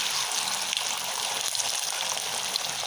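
Beaten egg poured into a hot pan with turmeric while cooking Chinese-style noodles, frying with a steady, close, crackling sizzle that continues evenly throughout without talk.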